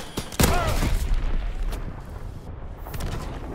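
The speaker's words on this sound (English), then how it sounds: "Enemy bomb incoming! Get to cover!" A bomb explodes nearby in a WWII naval combat video game, a sharp blast followed by rumbling booms and scattered gunfire that fade over a few seconds.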